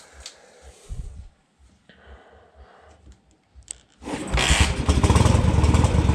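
A motorcycle engine starts with a single half kick and settles into a loud, steady idle close by, after a few seconds of quieter clicks and handling noises.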